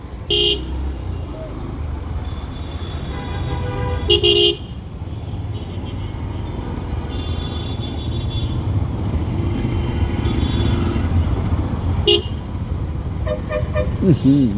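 Dense, busy road traffic on Dhaka's Badda Link Road, a narrow street half blocked in the middle, with steady engine rumble and repeated short horn toots, near and far, continuing throughout.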